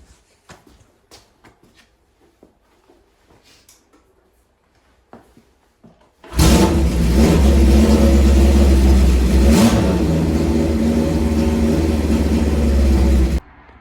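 Quiet clicks and small handling noises, then a Honda CB500/CB550 motorcycle engine roars to life and runs loud and steady at high revs for several seconds before cutting off.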